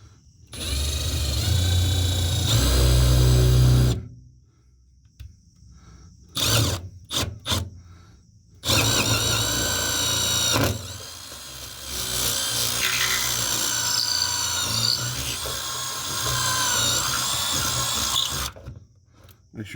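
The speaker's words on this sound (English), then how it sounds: "So we are going to pre-drill this hole." A power drill pre-drills a hole under a trailer for an AC port plug, running in several loud bursts separated by short pauses and brief restarts.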